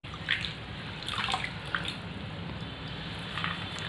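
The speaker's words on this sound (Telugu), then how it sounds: "ఇప్పుడు మనము దీన్ని నీళ్ళల్లో వేసి క్లీన్ చేసుకుంటున్నాము." Amaranth leaves are swished and rinsed in a vessel of water, giving soft continuous sloshing with a few light splashes and drips, fairly quiet and close.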